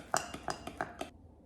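A utensil clinks against a bowl five times in a quick, even rhythm while melted caramel is stirred, with light, close taps and no talk.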